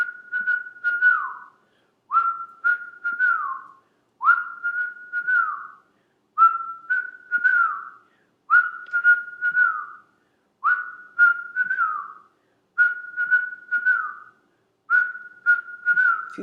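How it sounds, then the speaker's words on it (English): A single person whistles a steady rhythmic pattern in a breathing practice, eight clear phrases of short repeated notes separated by brief pauses, close and alone. "If you can't whistle, just use the breath, the rhythm of the breath through pursed lips like you're blowing through a straw."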